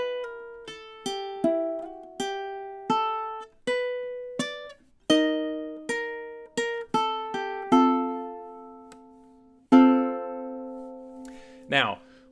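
Ukulele picking a fast run of single plucked notes from a measure of a tune, each note ringing briefly in a quick uneven rhythm, ending on a longer sustained note and a final strum, played alone and close.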